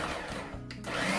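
Ninja Professional food processor on the pulse setting, a loud whirring motor burst with grinding and rattling, briefly cutting out midway before surging again; no talking.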